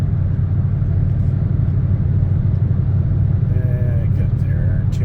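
Dodge Charger Redeye engine at low RPM while cruising, a continuous deep low grunt and road rumble from inside the car, under a voice talking.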